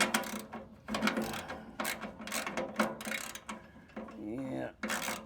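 A ratchet wrench working the nuts and bolts on a wood chipper, repeated quick clicking ratchet strokes in short bursts, fairly quiet, with a voice speaking briefly between them.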